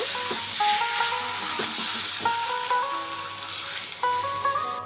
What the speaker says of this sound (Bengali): আলুটাকে কিছুক্ষণ রান্না করে নিয়েছি, এখন আমি জল দিয়ে দেব।